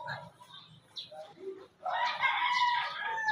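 A live chicken of over two kilograms, held in someone's hands as it tries to get free, clucks and squawks in short, loud bursts close by, mixed with handling noise.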